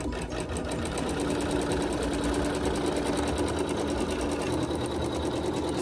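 A sewing machine runs steadily, sewing a tack down stitch on a quilt block, with a constant close mechanical whir and no talking.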